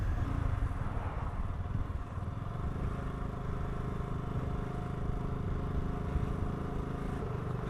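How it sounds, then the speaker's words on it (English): A BSA Goldstar 650 motorcycle being ridden, its exhaust giving a steady low engine drone with a rumbling mid-range tone and constant road noise that holds without a break. "Because this bike's exhaust is so far out the back, the rider hears a very different tone"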